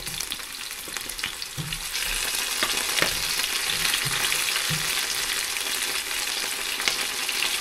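Tomatoes frying in a pan for pork binagoongan, a continuous loud sizzle with crackling splatters and a few soft stirring knocks, with no talking.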